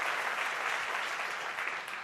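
Steady, dense audience applause at a philanthropy announcement event, continuous and evenly loud throughout with no voices over it.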